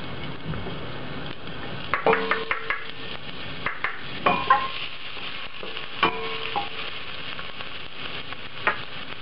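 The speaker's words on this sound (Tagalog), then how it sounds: "Kapag mainit na yung cooking oil, gigisa na natin yung garlic, then yung ginger" Garlic and then ginger sautéing in hot cooking oil, a soft continuous sizzle broken by sharp clinks and scrapes of a utensil against the pan at irregular intervals, close and moderately quiet with no voices.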